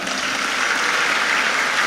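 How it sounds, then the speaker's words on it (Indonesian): A room full of people applauding, a dense, even wash of clapping that stays loud and steady for the whole stretch. "Tepuk tangan buat Raka."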